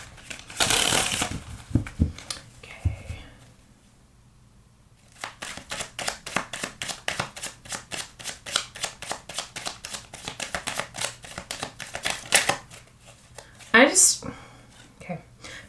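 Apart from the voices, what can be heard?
shuffling tarot cards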